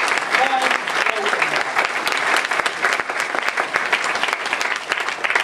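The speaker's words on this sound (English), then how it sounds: "can we have another sympathetic round of applause for Matt Hatch?" Sustained applause from a convention opening-ceremony crowd, dense clapping filling the whole stretch at a fairly loud, even level.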